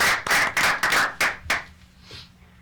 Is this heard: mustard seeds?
no